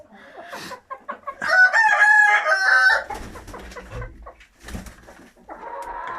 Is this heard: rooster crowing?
yes